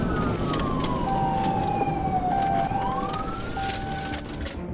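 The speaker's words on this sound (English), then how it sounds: "He turned on the emergency lights and siren, initiating a pursuit." A police car siren wails through rising and falling sweeps during a pursuit of a red Ford Mustang, loud and steady over road noise.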